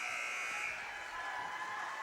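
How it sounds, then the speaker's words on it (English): At the end of a quarter of a women's college basketball game, the arena buzzer sounds one sustained, steady electronic tone, fairly loud over a faint crowd. "Shot is up, and it's no good as the buzzer goes off."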